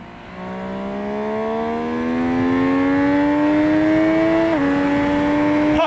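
A 2020 MV Agusta Superveloce inline-triple motorcycle engine revs steadily upward with a rising whine, briefly dips, then climbs again, loud and close with no talk.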